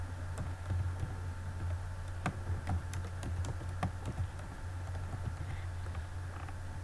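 Rapid clicking of keys on a computer keyboard as a category name and description are typed, soft irregular taps in short bursts over a low steady hum, close and fairly quiet.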